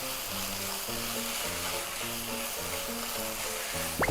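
Meat fries in a pan with a constant close sizzle and crackle, with a faint repeating tonal pattern underneath.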